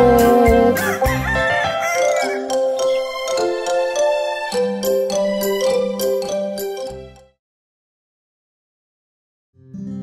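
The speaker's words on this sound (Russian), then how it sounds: "Слышишь, вот проснулся даже петушок" A rooster crows loudly in a Russian-language children's cartoon song, its calls layered over bright music for about seven seconds, followed by a stretch of silence before the sound returns.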